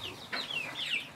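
A bantam hen on a small rural farm makes soft, high, chirping clucks as her chicks shelter beneath her, close by and fairly faint against a quiet outdoor background.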